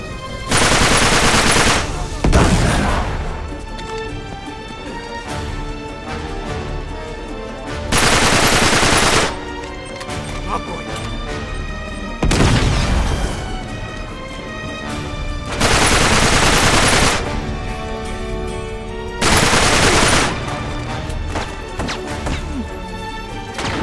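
Heavy automatic gunfire in the video game Uncharted 3: Drake's Deception, loud sustained bursts repeating every few seconds with crashing impacts and quieter battle noise between volleys.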